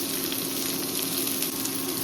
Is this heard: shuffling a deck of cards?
no